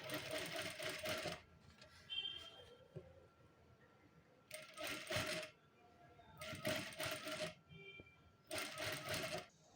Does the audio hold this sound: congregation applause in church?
no